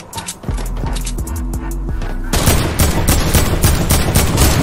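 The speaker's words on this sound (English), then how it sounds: "Shooting at the robot." Rapid automatic gunfire aimed at a robot in Fortnite Battle Royale, loud and close, with continuous bursts that grow denser and heavier partway through.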